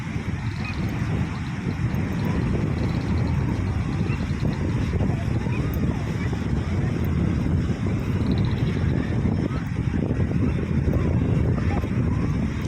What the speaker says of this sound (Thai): เสียงลมแรง